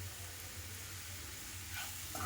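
Ivy gourd (dondakaya) coated in gram flour sizzles softly in a pan, a faint, steady frying hiss with a slight rise near the end, no voices.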